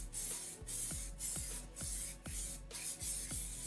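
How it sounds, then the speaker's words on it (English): A spray can of mold release hisses in repeated short bursts, about seven or eight even pumps close to the microphone, with quiet rattling between sprays. "Give it a spray of our DIY mold release."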